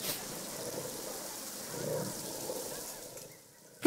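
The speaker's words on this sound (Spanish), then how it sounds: "Lluvia." Rain falling in the zoo-building video game Planet Zoo, a soft, even hiss of ambient rainfall at low level that swells slightly midway, with no talk.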